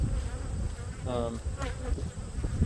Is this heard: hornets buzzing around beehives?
yes